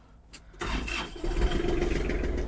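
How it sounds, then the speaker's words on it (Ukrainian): A Kubota GL-320 mini tractor engine cranks briefly, then catches and settles into a steady, close rumbling idle with no voices. "Заводиться трактор добре."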